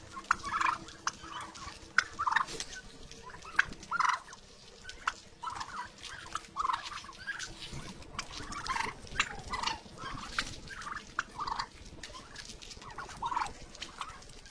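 Turkeys in a snowless winter yard gobble and chatter in repeated short bursts while pecking at frozen grass, close and moderately loud with no talk.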